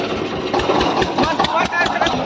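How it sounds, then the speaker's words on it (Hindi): An Eicher 241 tractor engine labors as it pulls a 9-tine cultivator in a field, a loud, rough, throbbing drone with uneven surges and no voices over it. "भाई ट्रैक्टर इतने जोर कैसे मार रहा है वो?"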